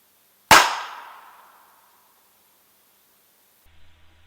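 A single sharp shot from a North American Arms .22LR mini revolver firing a Remington round into ballistic gel, one loud crack with a ringing decay of about a second, then quiet.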